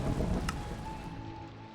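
Rain weather in Minecraft plays as a steady hiss of falling rain with a low rumbling undertone and a brief sharp crack near the start, fairly faint and without talk.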